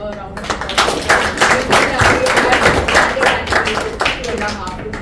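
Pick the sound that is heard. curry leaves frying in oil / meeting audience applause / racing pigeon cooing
meeting audience applause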